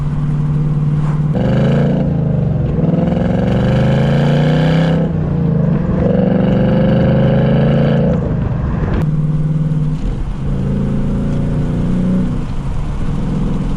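A 2019 Ford Mustang GT's V8 revs hard with the windows down, loud and close, in several long surging pulls separated by brief drops as gears change, the deep engine note climbing and falling across the stretch.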